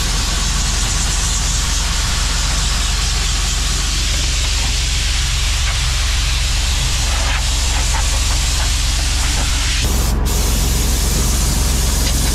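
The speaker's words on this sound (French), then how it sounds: "Allez, direction le Karcher. Voilà, tout d'abord, on va nettoyer la cabine." A Karcher pressure washer spraying to clean the cab of a Massey Ferguson 6270 tractor, a loud continuous hissing jet with a motor drone beneath, shifting in tone as the spray moves, then briefly cutting out and restarting.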